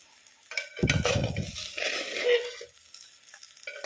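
Sardine masala being stirred in a wide pan, a few scraping, shuffling strokes under a soft sizzle, brief and close.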